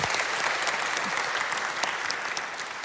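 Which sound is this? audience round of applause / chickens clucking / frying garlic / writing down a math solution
audience round of applause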